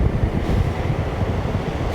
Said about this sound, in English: it's far too windy for it